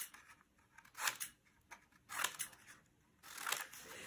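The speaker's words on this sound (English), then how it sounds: "I'm going to cut mine with scissors." Scissors cut paper into thin strips in three distinct crisp snipping bursts, close and fairly quiet, with short pauses between cuts.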